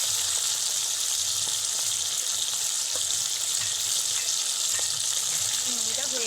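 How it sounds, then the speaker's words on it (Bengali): Close, steady sizzle of fish frying in hot oil, a dense crackling hiss with faint scraping clicks of a utensil now and then. "সবগুলো আমি এদিক ওদিক উল্টে দিয়েছি আবার এপাশটাও ভাজা হওয়ার জন্য সময় দেবো"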